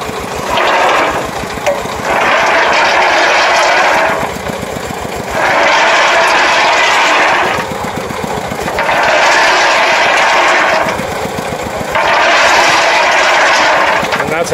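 An engine-driven ball mill grinds gold ore at a Kenyan mine: a loud, steady engine rumble with rhythmic surges of crushing and tumbling roughly every two seconds, close and continuous.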